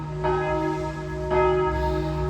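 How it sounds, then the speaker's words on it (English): Morning church bells heard from inside a capsule hotel: two ringing strikes, each leaving a sustained, shimmering tone that hangs in the air at a moderate distance. "I've been woken up by church bells."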